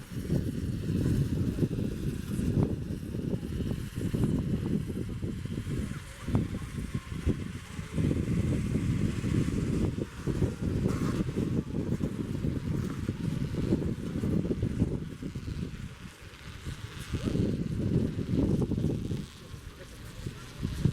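Cold wind gusts on Grouse Mountain near Vancouver, Canada, blowing as a constant loud low roar across the microphone with brief dips in strength.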